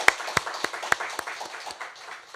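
Scattered hand claps from a church congregation at an Easter Sunday service, a few sharp close claps standing out over a thin, uneven patter that quickly tapers off, with no voices.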